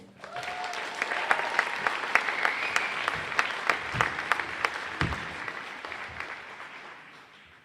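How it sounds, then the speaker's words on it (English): An audience applauds a speaker walking on stage, brisk scattered clapping with distinct sharp claps over a steady patter that swells early and then gradually fades toward the end. "So ladies and gentlemen, a big round of applause for Luke Boyce."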